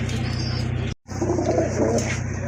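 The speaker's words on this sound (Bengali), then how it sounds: "আরেক জোড়া কবুতর চলে আসছে," Pigeons, both local and fancy breeds, coo in a loft, a steady close chorus of soft rolling coos running nearly throughout, with a brief gap partway.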